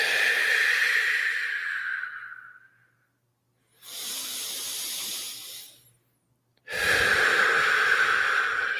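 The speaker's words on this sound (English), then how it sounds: "Breathing into the belly, letting the belly get big." Slow, deep breathing during a guided belly-breathing meditation: a long airy inhale, a pause, a softer exhale, another pause, then a strong inhale, close to the microphone and heard alone.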